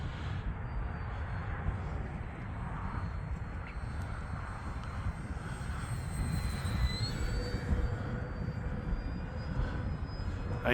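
Arrows Bearcat RC warbird on a 3S 2200 battery flying on a windy Sunday, a thin distant motor whine drifting in and out over steady wind noise, with no talking.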